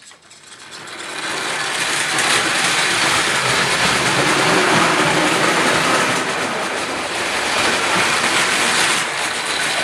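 A Marx windup radio-controlled toy train runs around a toy track yard with a steady, loud, close rattling and clattering that continues for about ten seconds after a quiet start.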